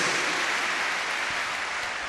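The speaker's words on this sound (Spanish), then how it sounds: "Dale un aplauso al Señor." A church congregation applauds in a steady wash of clapping, moderately distant and even, without talk over it.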